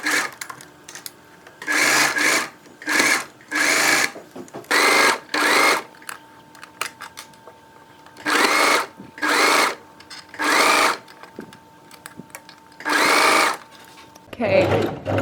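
A sewing machine sews a straight running stitch down a midi skirt in repeated short bursts of whirring stitching separated by pauses, close-up, with a brief voice near the end.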